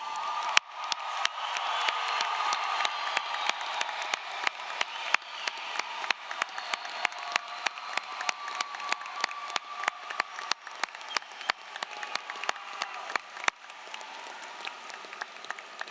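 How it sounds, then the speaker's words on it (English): A graduation-ceremony audience applauds the graduating class at length in a large hall, dense continuous clapping with scattered sharp claps and occasional cheers, steady throughout and fading slightly toward the end. "please join me in applauding the class of"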